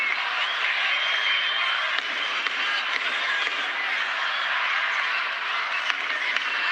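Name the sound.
Georgian crowd cheering at a judo match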